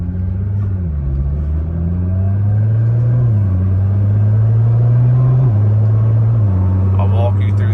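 A Nissan GT-R driving in automatic mode, its engine a steady low hum that rises in pitch with each gear, then drops at every upshift, heard from inside the cabin.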